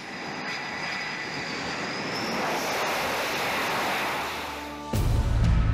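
Jet aircraft launching off a carrier flight deck: a steady loud roar of engines with wind and sea rush, swelling to a sudden heavier blast near the end.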